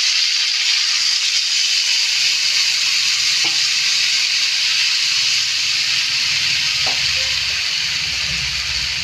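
A soaked paste of ground cumin and chili fried in a hot pan for a cauliflower and koi fish curry: loud, continuous hissing sizzle with a couple of faint clinks, no talk.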